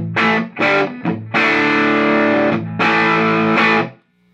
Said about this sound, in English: That's the Deluxe Reverb.